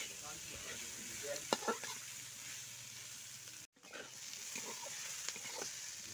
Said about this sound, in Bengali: লাউটাকেও দিয়ে নিলাম, নিয়ে কিন্তু কষিয়ে নিচ্ছি খুব সুন্দর করে